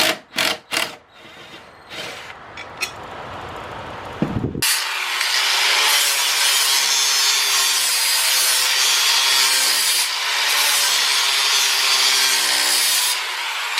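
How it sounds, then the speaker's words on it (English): Steady, loud grinding rasp of a Craftsman lawn mower blade edge being sharpened, continuous for several seconds after a few short scraping strokes at the start. "I'm going to go ahead and pop this off and just sharpen up the edges"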